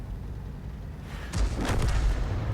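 Video game M53/M55 8-inch self-propelled artillery firing, a faint distant boom followed by a short rolling rumble, heard alone with no talk.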